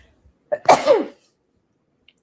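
A single loud human sneeze, close to the microphone, with a quick intake followed by a forceful burst that dies away into quiet.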